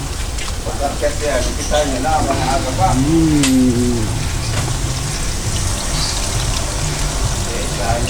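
Heavy rain pours steadily throughout as a dense, continuous hiss at an outdoor gathering, with people talking and a voice singing over it.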